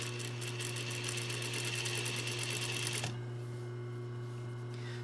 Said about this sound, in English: So I'm just understitching just a pin's width away from this